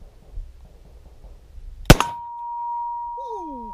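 A shotgun slug strikes a metal target with a single sharp, loud clang that rings out as a sustained metallic tone before fading, after quiet outdoor background.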